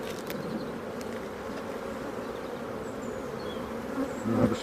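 Honey bees buzz steadily around an open WBC hive during an inspection. The drone is close and continuous, with a few louder passes near the end and no voices.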